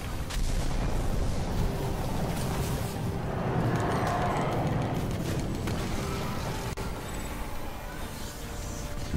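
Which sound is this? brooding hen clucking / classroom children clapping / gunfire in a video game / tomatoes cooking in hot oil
gunfire in a video game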